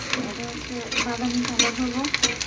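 Onion, garlic and chili sizzling in hot oil in a pan, a steady close crackle with occasional stirring clatter, no talking.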